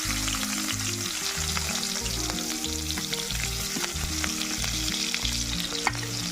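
Onions sizzle steadily in a pan of oil left over from frying fish, a dense continuous frying hiss with no pauses, close and fairly loud, under a low rhythmic musical backing.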